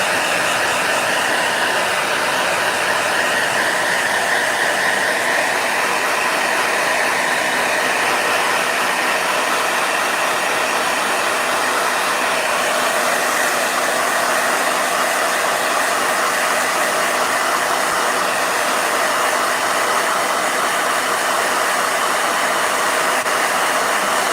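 A blow dryer runs without a break, a loud, steady airy whir that holds constant throughout with no voices over it.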